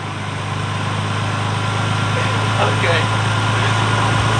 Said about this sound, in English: now I'm about to start it up and hear how it sounds